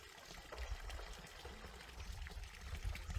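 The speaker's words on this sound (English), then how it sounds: "Water, I don't know whether you can hear it, just as we come in. We've got a nice spring coming down there." Mountain spring water trickling and pouring down a hillside channel in rural Laos, a steady faint wash of flowing water with low rumbling noise beneath.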